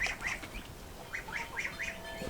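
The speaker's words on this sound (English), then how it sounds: "there's that goose troop" Geese honk from a farmyard flock watching over goslings, a run of nasal calls in short bursts spread through the stretch, moderately close over a low rumbling background.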